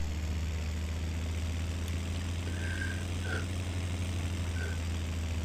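Leased tractor engine running steadily in a farming video game, a constant low droning hum with no pauses, plus a few faint brief chirps.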